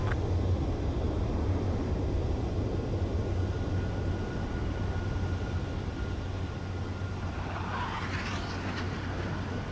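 A steady, loud fighter jet engine roar in Ace Combat 7 drones continuously with no break, a broadband rushing hum that stays level from start to finish.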